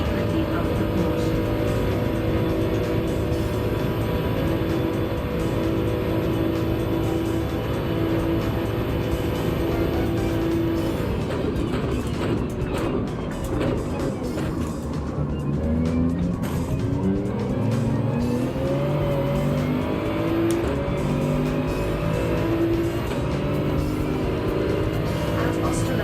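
A Porsche race car in Gran Turismo 7 roars steadily with a sustained high engine drone, shifting pitch as gears change and tires squeal through the corners, loud and continuous, with a voice talking over it.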